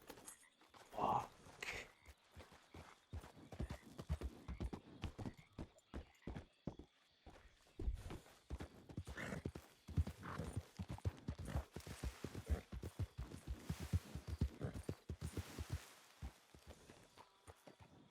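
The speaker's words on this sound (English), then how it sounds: "I hear horses." Horses in the video game Red Dead Redemption 2: a steady clip-clop of hooves carries through the whole stretch, with a brief whinny near the start, hoofbeats growing busier and louder toward the end, and scattered faint voices.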